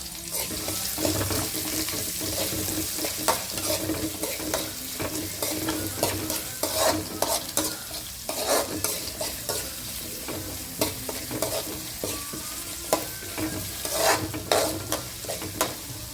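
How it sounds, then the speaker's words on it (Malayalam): Chopped onion and green chillies frying in a pan for poha upma, with continuous sizzling and repeated stirring scrapes and clicks of a spoon, close and fairly loud throughout. "അരിഞ്ഞു വെച്ചിരിക്കുന്ന സവാളയും പച്ചമുളകും അതും കൂടെ ചേർത്ത് കൊടുത്തിട്ട് നന്നായിട്ട് നമുക്കൊന്ന് മൂപ്പിച്ചെടുക്കാം"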